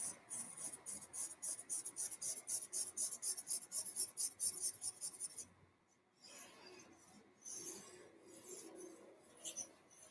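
A pencil scratches on paper in rapid, rhythmic back-and-forth strokes, close and crisp, pausing briefly before slower, scattered scribbling resumes; quiet and with no talking.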